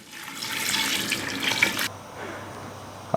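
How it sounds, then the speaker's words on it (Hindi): Water pours into a pot for beef hareesa, a steady broad rush that runs loud for about two seconds and then cuts to a quieter trickle, with a small clink at the end. "इसके बाद हम इसमें पानी ऐड करेंगे"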